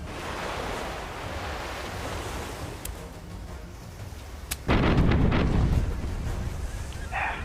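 Ship cannons firing over ocean waves in a pirate video game, a sharp crack or two over rushing surf and wind, then a heavy booming burst that leaves a louder roaring wash of sea noise.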